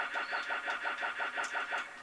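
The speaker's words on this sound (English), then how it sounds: "oh no, it's a big scary RC car" A small RC car engine in a video game buzzes with a steady, rapidly pulsing whine, like a toy car engine revving in quick regular bursts, loud and close.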